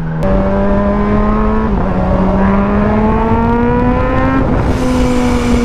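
A supercharged Kawasaki Z H2 motorcycle engine on the road, a loud continuous drone rising steadily in pitch through the gears with brief dips at shifts, close and dominant with wind noise.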